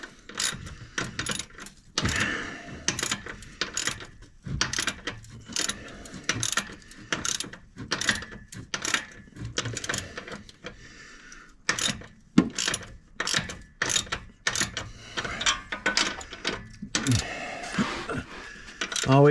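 Rapid ratchet clicks tighten the muffler bolts on a Honda Civic performance exhaust, coming in bursts of quick ratcheting strokes with short pauses between them, close and fairly loud.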